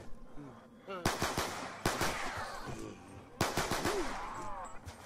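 Rapid automatic gunfire in Call of Duty Zombies, two loud bursts of repeated shots close up with a short pause between them, layered with game sounds and brief voice fragments.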